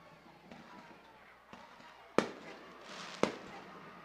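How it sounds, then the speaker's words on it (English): Fireworks go off at Taggart Stadium during a New Castle versus Penn Hills high school football game: two sharp, loud bangs about a second apart over steady crowd murmur. "Fireworks go off in here at Taggart Stadium."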